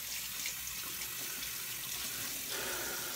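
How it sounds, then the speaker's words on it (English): A bathroom tap runs steadily into a sink while water is used to rinse off after shaving, a loud, close, continuous hiss that swells slightly near the end. "Let me rinse off."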